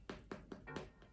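A damp beauty blender sponge dabs makeup onto a face in four or five soft, quick, moist taps in a steady rhythm, very close and faint.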